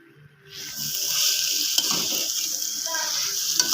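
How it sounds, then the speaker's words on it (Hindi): Chicken tikka sizzles steadily as it cooks, a loud, continuous frying hiss that starts abruptly after a brief quiet moment and holds with small crackling pops throughout. "ये चिकन टिक्का जो है ना ये तैयार हो रहा है अभी।"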